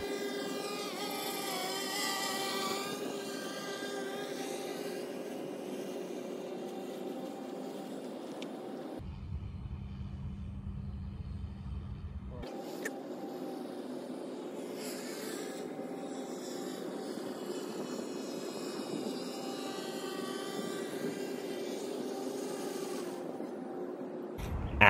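HKU fixed-wing UAV drone taking off and flying about 1,000 feet from its pilot, a steady continuous motor drone held at an even level throughout, with a brief break midway and no talking.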